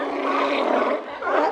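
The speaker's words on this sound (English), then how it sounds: "sea lion" Sea lion giving a loud, hoarse roaring bark that holds steady for about a second, dips, then rises again, close and alone with no talk.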